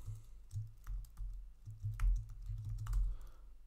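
Code being typed on a computer keyboard, a steady run of close clicking keystrokes over a low constant hum, with a few louder thumps near the end and no talking.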